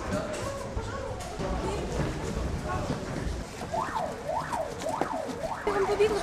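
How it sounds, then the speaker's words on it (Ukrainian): A wailing fire alarm rises and falls in repeated sweeps over the second half during a drill at a military college, under background voices and noise. "офіційна тривога пожежна"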